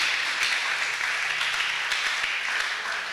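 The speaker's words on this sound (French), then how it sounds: "Applaudissez un peu le Seigneur des seigneurs." A church congregation applauds steadily during a sermon, a dense wash of clapping with no break, some hands standing out slightly above the rest.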